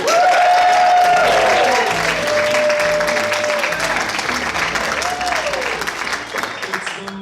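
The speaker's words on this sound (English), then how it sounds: "please give a big round of applause to" A comedy show audience claps and cheers loudly for a stand-up comedian as he is introduced. The applause starts strong and fades gradually while a voice speaks over it.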